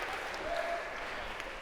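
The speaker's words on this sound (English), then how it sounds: "a round of applause, if we could, for you guys" A brief burst of audience applause in a university lecture hall, dense and steady clapping throughout, with faint murmuring underneath.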